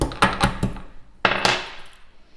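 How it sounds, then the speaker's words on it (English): Green cardamom pods crushed in a kitchen while baking apples, a few sharp close cracks and clicks in quick succession, then a pause and two more brittle snaps with short ringing decays. "Cardamom, I just love cardamom, and I will crush those"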